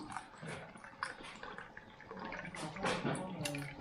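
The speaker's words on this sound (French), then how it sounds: "on va finir les variantes avec de l'ajout de vinaigre d'alcool, du vinaigre blanc d'alcool" White distilled vinegar is poured from a glass onto pickled mixed vegetables, a faint splashing trickle that swells near the end, with soft speech and kitchen noise around it.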